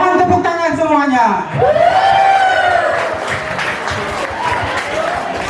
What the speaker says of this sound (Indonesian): Mohon tepuk tangan semuanya.